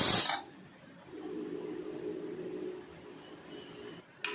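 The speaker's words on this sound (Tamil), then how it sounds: "குக்கரில் விசில் போட்டு" A pressure cooker cooking mutton bones opens with a short, loud burst of hissing steam from its whistle, then drops away to a steady low rumble with faint hiss.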